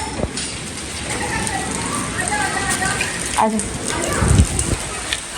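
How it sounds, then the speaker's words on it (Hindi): Rain falling steadily outdoors, a continuous patter on surfaces with a few heavier splashes, while several people talk and call out nearby. "वो देखो बेबी की भी पहली बारिश।"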